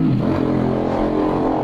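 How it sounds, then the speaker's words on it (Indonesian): A motorcycle passes along a busy roadside beside a street food stall, a steady engine rumble and road noise throughout at close range, with no voices over it. "Bentar, ada motor lewat."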